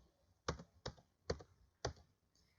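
Four faint, evenly spaced clicks from keys tapped on a computer keyboard while entering a MATLAB command, heard alone in a quiet room.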